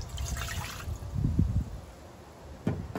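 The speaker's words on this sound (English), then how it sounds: "So let's put 1 cup of water in the Instant Pot." One cup of water is poured into an Instant Pot, a short splashing trickle into the metal inner pot, then quieter dribbles and a brief clunk near the end.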